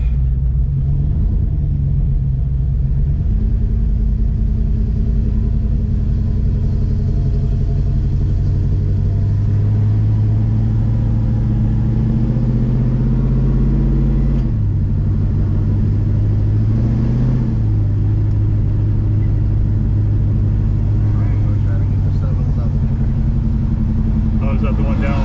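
A 454 Chevelle SS fitted with Holley Sniper EFI rumbles along on a drive, its deep engine drone steady and close, with pitch shifts as it accelerates, while people talk inside the car.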